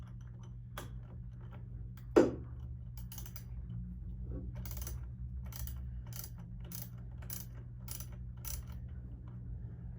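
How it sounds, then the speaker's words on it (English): Ratchet wrench loosening the battery hold-down bolt on a 2019 Lincoln Nautilus, a close, quiet series of evenly spaced clicks over a low hum, with one sharp metallic clank near the start. "we're going to loosen the bolt that's right here"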